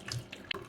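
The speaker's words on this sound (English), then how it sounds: "Give it a rinse." Tap water runs into a sink to rinse freshly peeled ginger root, a short steady splashing stream heard up close with no voices.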